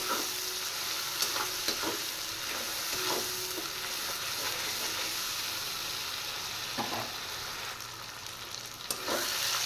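Spice paste of ginger, cumin, dried chilli powder, turmeric and salt frying in a pan, a loud continuous sizzle with occasional scraping stirs from a spatula, close up and without speech.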